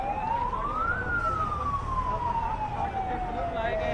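Fire engine sirens wail continuously nearby as trucks pass one after another on their way to a major blaze at an electricity office in Raipur, Chhattisgarh, with steady road rumble and traffic noise beneath the rising and falling tone.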